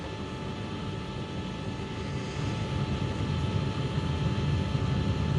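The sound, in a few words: aircraft engines on cockpit voice recording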